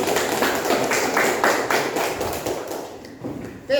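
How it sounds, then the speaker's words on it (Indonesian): Applause from a classroom group, a burst of quick overlapping hand claps that fades out after a few seconds. "tepuk tangan"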